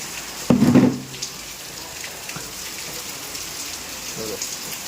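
Steady rain falls during a Diwali evening, with rainwater streaming down steps toward a doorway. It makes a continuous soft hiss of drops throughout, with a brief louder voice-like burst near the start.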